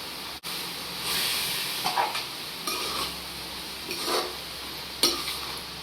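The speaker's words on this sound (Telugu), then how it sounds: "వేసుకొని ఒకసారి కలుపుకోవాలి." Ridge gourd leaf curry with tomatoes is stirred in a pan, a steady close sizzle broken by several scraping sweeps of a spoon, with no talking.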